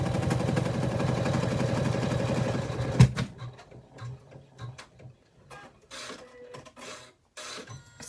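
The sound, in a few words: sewing machine tacking down fabric on a zipper bag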